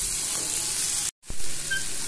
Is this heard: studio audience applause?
no